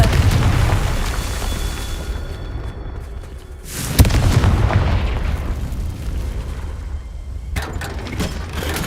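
Repeated deep booming blasts from the Confringo spell ring out in Hogwarts Legacy, with a heavy rumbling explosion that swells and decays, followed by another sharp burst amid ongoing low rumble.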